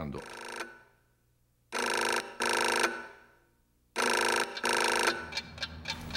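Old telephone ringing unanswered in a dramatized 1973 scene, three loud double-burst rings separated by pauses, with clattering handling noise after the last ring.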